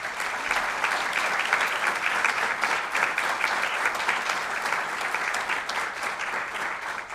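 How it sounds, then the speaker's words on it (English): A crowd at an evening teachers-of-the-year honors event gives a group a sustained round of applause, loud, even and continuous clapping from many hands throughout. "One more clap for the group, please."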